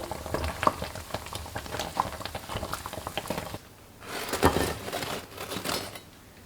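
Youtiao dough sticks deep-frying in hot oil over medium-high heat, a steady bubbling crackle with scattered pops, broken by a brief quiet gap before a louder burst of frying.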